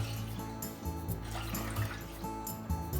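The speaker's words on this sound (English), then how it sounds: "4 cups of water into the pot." Four cups of water pour into a cooking pot for udon broth, a steady, soft splashing trickle heard close but quiet, with no talk.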